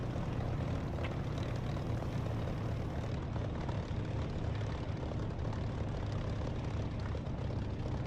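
A simulated aircraft lands in the DCS flight simulator game: a steady, loud roar of engine and airframe noise runs unbroken throughout.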